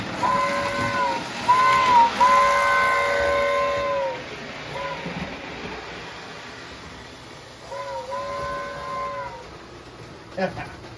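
A steady multi-tone steam locomotive whistle in a video game blows in long, sustained blasts, pauses, then sounds again more faintly over a low background hiss.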